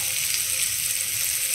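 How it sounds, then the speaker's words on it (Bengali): Cauliflower frying in oil in a pan, a steady bright sizzle that holds close and loud throughout with no voices. "এদিকে দেখো ফুলকপি ভাজা প্রায় হয়েই গেছে"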